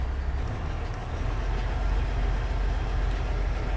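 A 2019 Kenworth T680 with an MX13 engine idles after starting, a steady close diesel rumble with a deep low throb throughout.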